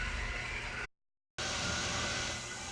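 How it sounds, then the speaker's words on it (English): A steady mechanical whir runs throughout, a motorized hum from a Shark Ion robot vacuum cleaner, broken by a brief moment of silence partway through. "what all that noise is in the background, that is my robot vacuum."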